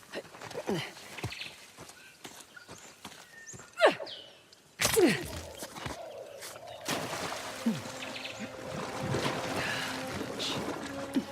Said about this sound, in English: I think I hear horses up ahead.